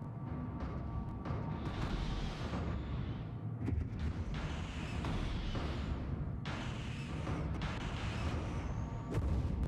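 Spaceship fleet being destroyed in a Stellaris space battle, a dense continuous barrage of booming, crackling explosions and weapon fire that rolls on loudly throughout with repeated bursts.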